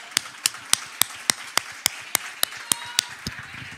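Sparse, sharp claps in a church service, a dozen or so distinct hand claps in a fairly regular rhythm, close and crisp against a quiet background with no talking.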